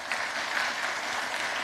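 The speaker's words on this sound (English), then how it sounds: "let's give them all one more hand of applause" A crowd claps steadily in dense, even applause, with no voices standing out.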